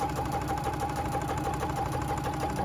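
Sewing machine running steadily at a 4mm stitch length across a seam on a zipper pouch, a close, continuous whirring hum with a fast even rhythmic chatter of the needle.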